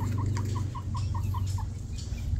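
A hen on a small poultry farm gives a run of about eight evenly spaced clucks, close and clear over a low steady background hum.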